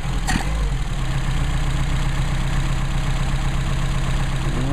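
Mercedes-Benz 190SL engine with Solex carburetors idling steadily up close, a continuous low rumbling drone with a brief sharper blip near the start and no talking.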